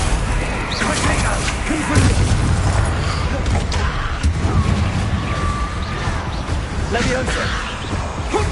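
Repeated spell explosions in the Hogwarts Legacy video game, loud booming bursts and whooshes filling a chaotic fight, with a person speaking throughout.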